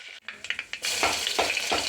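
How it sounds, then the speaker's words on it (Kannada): Mustard seeds, curry leaves and spices hit hot oil, with a few quick crackling pops followed by a steady, close sizzle for tomato rice. "ಕರಿಬೇವು ಹಾಕ್ಕೊಂಡು ಮಸಾಲೆ ಎಲ್ಲ ಹಾಕ್ಕೊತೀನಿ"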